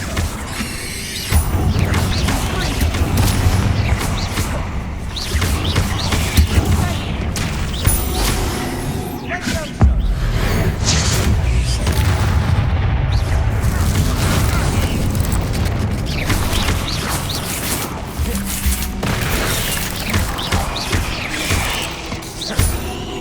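Confringo explosive spells blasting in Hogwarts Legacy, loud booming detonations and crashing debris in a continuous battle din, with sharp hits near 1 and 10 seconds and rumbling lows throughout.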